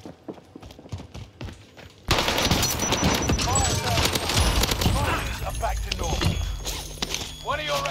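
Dense, loud gunfire in a Call of Duty Warzone Resurgence match erupts suddenly and keeps going as rapid automatic bursts and scattered shots, following quieter movement sounds, with a voice talking underneath.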